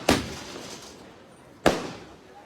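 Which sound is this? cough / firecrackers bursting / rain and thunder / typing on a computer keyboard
firecrackers bursting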